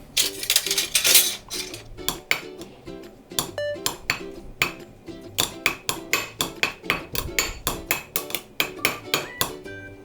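Utensil knocking and clinking against a bowl while tube garlic is stirred into ingredients for a tuna-and-mushroom ajillo, with a rapid run of close, sharp taps that settles into a steady rhythmic tapping.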